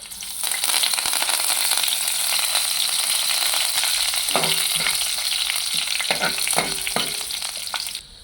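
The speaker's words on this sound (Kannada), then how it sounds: "ಜೀರಿಗೆ ಹಾಕಿದ್ದೀನಿ ಬೆಳ್ಳುಳ್ಳಿ ಫ್ರೈ ಮಾಡ್ಕೊಳ್ಳಿ" Garlic, cumin seeds and curry leaves frying in hot oil in a pan, a loud, steady sizzle with crackling and scraping stirs, close up, ending abruptly, no talk.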